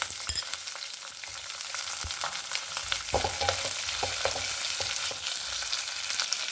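Garlic and onion sizzle steadily in hot oil in a pan for tomato chutney, a dense continuous frying hiss broken by occasional stirring clatters, close and fairly loud with no talking.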